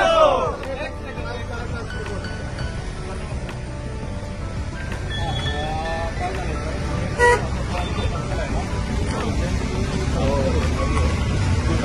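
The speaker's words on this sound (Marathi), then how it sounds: "ट्रॅफिक आहे" Busy road traffic with car horns tooting repeatedly, sometimes near, over engine rumble and a crowd's babble, with people talking throughout.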